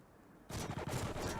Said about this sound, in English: shots already beginning to be exchanged, nades as well